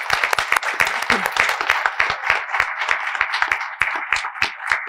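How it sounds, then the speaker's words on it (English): Loud, dense applause from an audience at an award ceremony honoring a writer at the American Indian Festival of Words, sustained clapping of many hands throughout with no voices over it. "Let's give her a round of applause."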